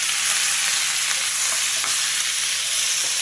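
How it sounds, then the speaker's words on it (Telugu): Onions and chopped tomato fry in oil in a pan for a drumstick masala curry, giving a steady, close, loud hiss of sizzling with faint stirring scrapes and no voices. "ఉల్లిపాయలు కొంచెం వేగిపోయిందండి ఇప్పుడు మనం కట్ చేసి పెట్టుకున్న టమాటా వేసేసాం"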